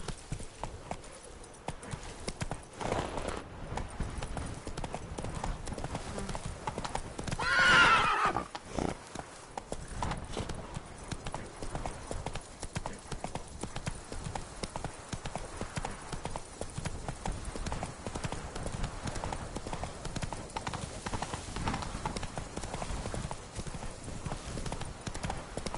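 Horse hooves clip-clop at a gallop through Witcher 3: Blood and Wine, a steady drumming rhythm running the whole time, with a horse whinny rising briefly in the middle and a voice urging the horse on.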